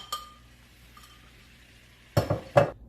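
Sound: stir-frying pounded curry paste in hot oil in a pan

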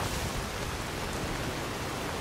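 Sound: rain falling in video game Skyrim

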